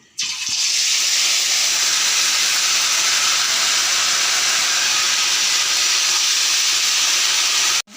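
Whole cumin, bay leaves and fennel seeds fry in hot oil for a Bengali moong dal bora curry, giving off a loud, steady, hissing sizzle that starts abruptly and holds unbroken for several seconds, with no voices over it.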